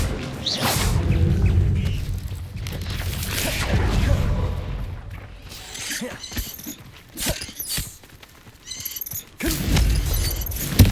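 Spellcasting in Hogwarts Legacy as the Confringo fire spell is cast: whooshing bursts followed by loud booming impacts and crashes, with quieter gaps between the blasts.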